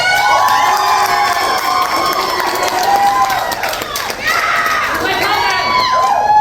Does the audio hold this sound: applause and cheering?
yes